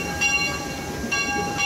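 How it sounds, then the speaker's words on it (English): A train rumbles by steadily with a metallic, tonal ring from the rails, fairly close and continuous. "Wave high to the train, buddy! It's the train."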